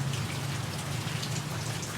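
Steady rain falls continuously with dense, even patter of drops on surfaces, fairly close, with a low constant hum underneath and no talking.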